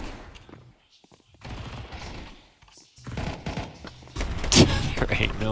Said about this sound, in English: Why was Try firing a deagle from heaven through the smoke when he has an M4 on his back?